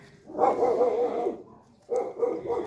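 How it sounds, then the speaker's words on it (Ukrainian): A dog lets out a long, loud bark, then after a brief pause a second burst of barking follows, close by and with no voices. "Не Бачиш, який пес Баскервіль"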